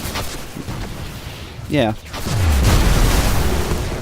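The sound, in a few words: grenade explosions in the video game Destiny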